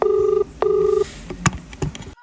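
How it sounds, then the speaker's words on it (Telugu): A telephone dialing a call: two long ringing tones, each about half a second, then a few sharp clicks and taps close by. "విఘ్నేష్ కానీ ఫోన్ చేద్దాం."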